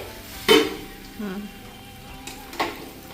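Mutton and potatoes being sautéed in a pan, a low sizzle with a couple of distinct clanks of utensil on metal, one early and one near the end, with quiet background sounds between.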